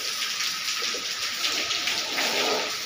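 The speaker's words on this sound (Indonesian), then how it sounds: "hujan-hujan, guys" Steady rain falls in a continuous broadband hiss with soft patter of drops on surfaces, fairly close and even throughout, with no voices.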